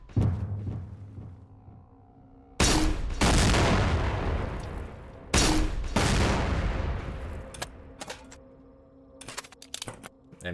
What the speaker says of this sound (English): Here is a grenade launcher in Overcharged, a mod that released in